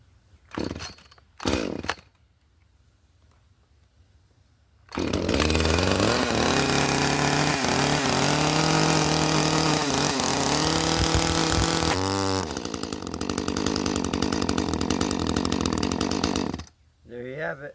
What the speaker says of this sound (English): We got the Echo versus the Yard Maris chainsaw chaps. Let's see if we can get her fired up.